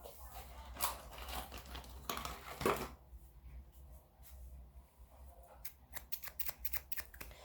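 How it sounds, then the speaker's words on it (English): Scissors snip and click close by in brief sharp bursts, first scattered and then in a quick run of cuts near the end, in quiet surroundings. "I know a lot of people like scissor sounds in ASMR"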